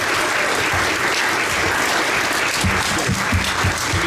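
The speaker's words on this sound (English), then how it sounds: "Can we give one more round of applause to Lauren Taylor, Aaron Baker, and Charles Simmons?" An audience at a panel session on Black power and politics in Detroit gives a dense, sustained round of applause, close and loud throughout with no pauses.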